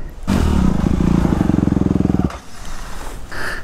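An enduro motorcycle engine heard some way off outdoors, a rough, rattling drone with a pulsing throb lasting about two seconds, then fading into background noise.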